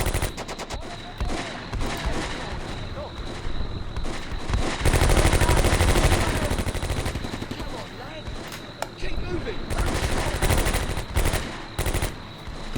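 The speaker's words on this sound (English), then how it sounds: "Good shooting, boys. Absolutely wonderful shooting." Combat Mission World War II game battle audio: dense machine-gun bursts and rifle fire crackle continuously, peaking in a heavy fusillade midway with booming mortar-like impacts, close and loud throughout.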